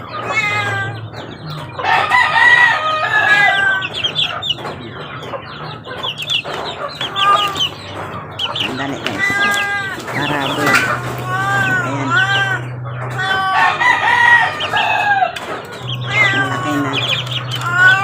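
Chickens and chicks clucking and a rooster crowing while being fed on a rainy day, busy close fowl calls over a low steady hum, with brief speech mixed in.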